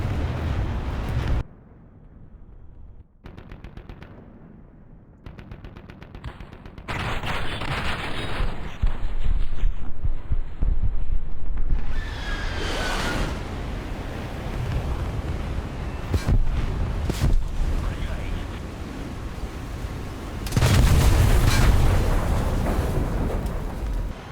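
F-100D jet firing its cannons at a MiG-21 in an air combat game, with long rattling bursts over loud engine roar and a few sharp impacts, no talk.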